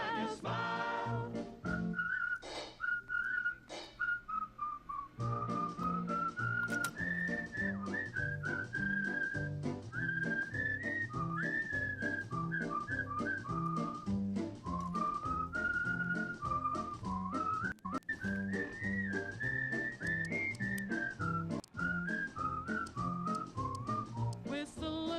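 Melodic whistling from a song in the video game Fallout New Vegas, a bright whistled tune that rises and falls over a steady rhythmic musical backing, loud and continuous throughout with no speech.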